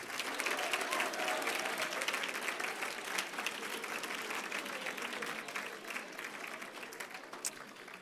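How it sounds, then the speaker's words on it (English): Steady, dense applause from a large audience at a senior awards chapel ceremony for scholarship recipients, sustained evenly across the whole stretch with a faint murmur of voices. "Please give them a round of applause"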